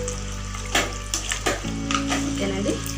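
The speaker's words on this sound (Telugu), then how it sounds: "ఆ వాటర్ని యాడ్ చేద్దాం." Water pours into a cooking pot of beans chicken curry with masala, a continuous splashing gush with a few clanks, while someone talks over it.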